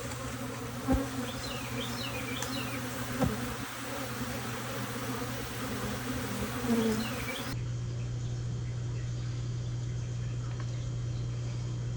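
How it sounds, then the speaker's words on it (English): A honeybee swarm pours out of an observation hive, a dense, steady buzzing drone of many bees with a few louder passes close by, continuous throughout. "They're swarming. See how fast they're coming out of the hive?"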